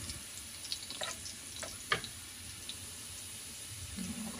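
Garlic frying in a pan, a soft sizzle with a few small clinks and pops near the middle, quiet and close with no talking.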